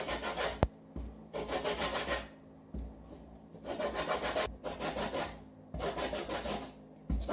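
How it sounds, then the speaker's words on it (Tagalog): Lemon peel is rubbed against a hand grater in about six rhythmic bursts of rasping strokes, close and fairly loud, with short pauses between. "Kuskusin na natin ang balat ng ating lemon."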